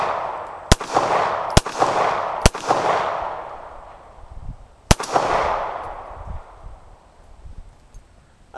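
Four loud, sharp gunshots from a 1970s Star BM 9mm pistol at an outdoor shooting range, three in quick succession and a fourth after a pause, each followed by a ringing echo.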